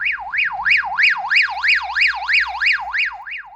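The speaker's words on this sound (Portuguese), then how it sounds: "o barulho do rádio, né, do alarme é bem alto" A loud, shrill electronic alarm siren from a Baofeng handheld radio, sweeping up and down in a steady wailing cycle, about three rises per second, continuous and close.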